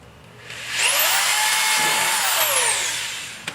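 Power drill boring one hole through a rolling shutter housing, the motor spooling up, holding a steady whine for a couple of seconds, then winding down, close and alone.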